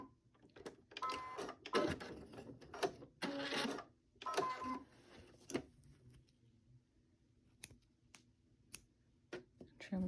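Sewing machine back stitching a fabric coaster in short bursts of rapid mechanical clatter, separated by pauses and quieter clicks, fairly close while a person talks at points.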